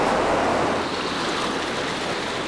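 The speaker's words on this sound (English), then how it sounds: "a large and fast river now flows through the cave" A large, fast underground river, fed by heavy rains, flows through the Son Doong cave, a loud and steady rushing of water heard alone and close by.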